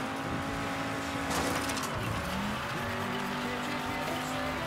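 A car in Mafia III drives along missing a wheel rim, its engine droning with a whining tone and a scraping, skidding surge midway, loud and close, no talking.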